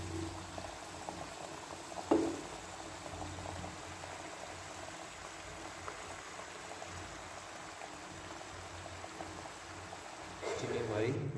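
Sugar syrup for homemade Rooh Afza simmers in a pot with a soft, continuous bubbling hiss, a brief clatter near the start and a slight rise in activity at the end.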